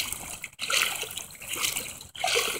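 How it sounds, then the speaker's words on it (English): Floodwater from the great flood of 2016 splashes and sloshes close by in bursts, broken by two brief pauses, with no voices. "The water's risen too far, and we have to get out of here."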